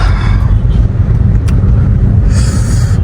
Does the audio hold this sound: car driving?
yes